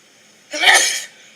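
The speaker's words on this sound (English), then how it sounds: "I'm about to sneeze." A single close, loud human sneeze bursts out after a quiet moment, sharp at the onset and trailing off over about half a second.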